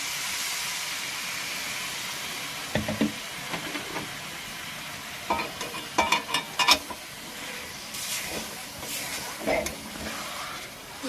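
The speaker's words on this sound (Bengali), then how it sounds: "একটু ভালো করে নাড়াচাড়া করে নেব এই যে ভালো করে একটু নেড়ে চেড়ে নিলাম" Koi fish and cabbage are stirred in a pan with a little water. Scattered spatula scrapes and knocks sound over a soft, continuous sizzling hiss.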